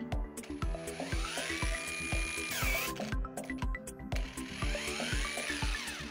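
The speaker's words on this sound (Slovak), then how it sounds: "je vidieť, že sa snaží dorovnávať otáčky, a so zvyšujúcou sa rýchlosťou bude brúsenie lepšie" A Parkside PWSAP 20 cordless angle grinder grinding in close range, its motor whine sweeping up and down as speed hunts, with a rapid rhythmic chatter of contact pulses throughout and a brief drop around the middle before resuming; no talking.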